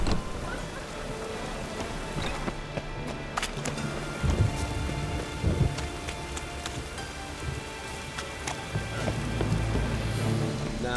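Steady rain pours on surfaces in a rainy Witcher 3 game scene, a dense continuous hiss that runs the whole time with a few low rumbling swells. No clear thunderclap stands out, and faint voices sit low in the mix.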